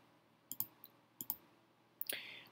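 A computer mouse clicks sharply up close in paired double clicks, three pairs in quick succession, the last followed by a brief soft electronic tone.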